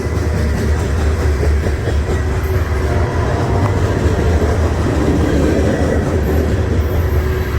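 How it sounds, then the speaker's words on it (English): A coal train rolls steadily past on the rails, a loud continuous rumble with rhythmic wheel clatter and faint high squeals near the end, heard close by with no talking. "I haven't seen nothing but coal trains all day"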